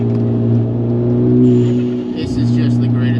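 Engine of a lowered Hyundai Genesis Coupe on Federal 595 RS-R tires drones steadily while driving, a low, continuous hum that swells slightly under a speaking voice.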